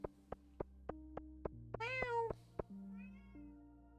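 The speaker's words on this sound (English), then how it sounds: "Meow! Meow!" A cat meows once, close and clear, among evenly spaced clicks and steady electronic tones from a Stardew Valley game playing in the background.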